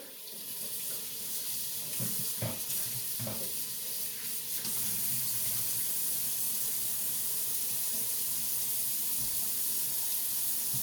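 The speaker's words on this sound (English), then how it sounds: "Let me get my hands a quick wash here." Hands washed under a running kitchen tap, a steady close hiss of flowing water with splashing and a few clatters early on, continuous throughout with no talking.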